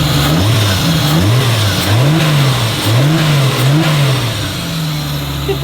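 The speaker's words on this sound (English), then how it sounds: "The engine sounds healthy." A Nissan S14 240SX fitted with a 2JZ engine is revved repeatedly up close, with about five rising-and-falling blips in a loose rhythm before it drops back to idle.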